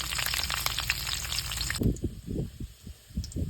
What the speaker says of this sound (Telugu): మిరపకాయలు ఎల్లిపాయ జీలకర్ర అన్నీ ఒకేసారి వేసుకుంటున్నా